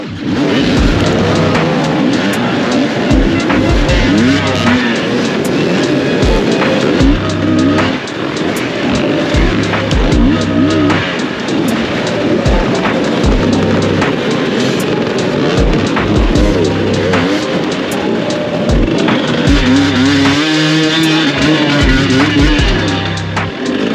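Enduro motorcycles at the start of a night race at Todds Leap, several engines revving and buzzing loudly together in overlapping bursts, rising and falling as bikes accelerate away.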